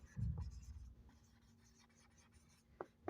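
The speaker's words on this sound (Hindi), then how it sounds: "सो लिखेंगे" A pen scratches across paper during a maths lesson, with short, faint strokes and a few soft taps under low room hum and no speech.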